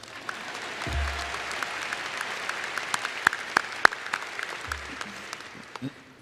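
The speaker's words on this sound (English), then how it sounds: "Go ahead, let's applause" A graduation crowd at Noblesville High School applauds the class of 2018 scholars, steady moderate clapping from many hands with a few sharper claps standing out, and low thumps now and then.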